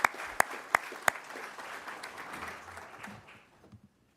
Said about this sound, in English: Let's give a big round of applause to the